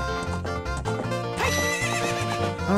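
A horse in the video game Ocarina of Time gives a loud, close, shuddering neigh amid musical game audio, with hooves clip-clopping faintly beneath.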